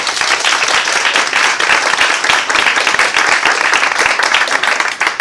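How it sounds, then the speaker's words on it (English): Loud, dense audience applause for volunteers at a magic performance, many hands clapping close and vigorously in a sustained burst. "let's give them a round of applause"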